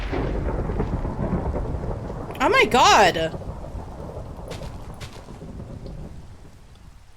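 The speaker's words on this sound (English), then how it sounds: "I've never had lightning strike in Minecraft that close to me." A close lightning strike in Minecraft cracks into loud thunder around the middle, over a constant bed of rain during a storm, while a person cries out in surprise over the blast.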